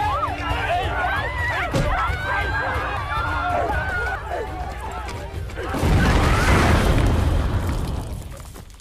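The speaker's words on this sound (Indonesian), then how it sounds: "ledakan barusan rupanya dilakukan oleh Yong bersama para rekannya" A heavy explosion in a film erupts partway through, followed by a roaring rumble, after a stretch of tense, busy soundtrack noise.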